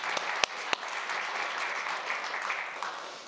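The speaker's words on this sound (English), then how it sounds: "I would love to give a round of applause to all of these generous donors who made this program possible." Steady audience applause fills the room at an evening design talk, a dense wash of many clapping hands with a few sharp individual claps standing out near the start.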